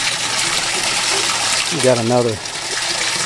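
Water drains steadily from the grow bed of a small backyard aquaponics system, a continuous close gush and trickle that runs throughout, with someone talking briefly partway through.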